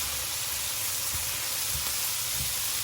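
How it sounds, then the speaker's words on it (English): Onions and garlic sizzle and hiss steadily in a pot for white chicken chili, with a few soft scraping stirs rising faintly under the constant frying noise. "Now I'm going to be stirring it."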